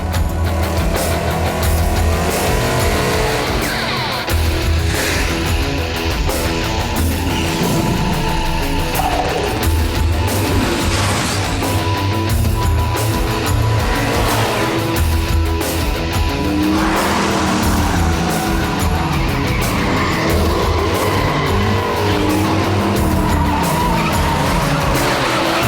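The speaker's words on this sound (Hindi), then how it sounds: "कार और तेज से चलाओ।" A car speeds and skids during a chase scene, with a loud, continuous engine roar and repeated tire squeals over a dense mix of motion sounds, with no gaps.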